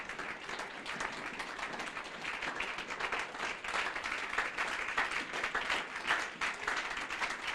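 Church congregation applauding during a French Sunday worship service, a steady dense wash of clapping hands filling the room continuously from start to finish, fairly close and even in loudness with no speech over it.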